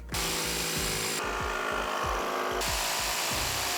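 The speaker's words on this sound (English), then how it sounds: "I need to cut around this hexagon pattern" A power saw cuts wood around a hexagon pattern for a pop-up bar in a garage epoxy countertop, giving a loud, continuous motor whine with a rhythmic pulsing chatter throughout.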